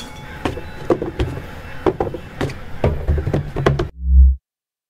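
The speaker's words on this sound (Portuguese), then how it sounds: "Tá aqui batendo na janela." Repeated knocking on a window in a horror video game set in a house: irregular sharp raps, close and loud, ending with a low thud.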